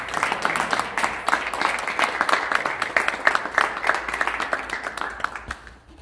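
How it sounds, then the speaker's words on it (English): Audience applauding parents at a high school Boys State announcement ceremony, a dense, sustained round of clapping from a room full of people, tapering off at the end. "how about a round of applause for all our parents?"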